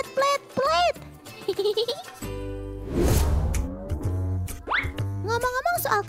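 Goats bleating, cartoonish, in several short wavering calls mixed with boinging sound effects and a child-like voice, close and loud.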